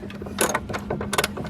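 Hand ratchet tightening bolts while fitting a trailer hitch to a 2015 Toyota Highlander, quick close clicking strokes in two short bursts with a pause between them.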